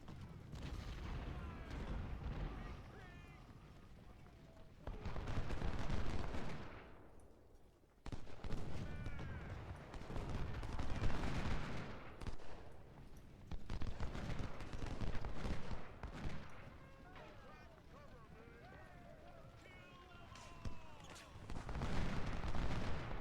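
Artillery and musket fire rumble across a Malvern Hill battlefield in a Civil War video game, a dense continuous barrage of booms and crackling volleys rising and falling in waves with no pause.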